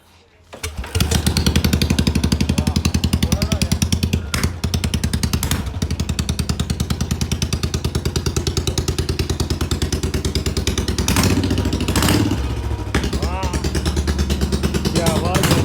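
A Royal Enfield Bullet motorcycle engine with its silencer removed roars loud and close, a harsh rapid popping clatter that runs steadily throughout, briefly rising and falling.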